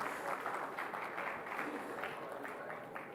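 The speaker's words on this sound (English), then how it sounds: "Yes, please keep the applause coming, ladies and gentlemen." Audience applause at a panel discussion on Vadhavan port development and the future of maritime trade, a steady, fairly quiet wash of many hands clapping that holds evenly throughout.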